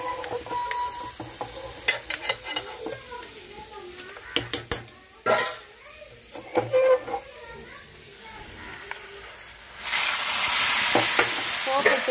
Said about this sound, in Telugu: పోపులు వేగినాయి.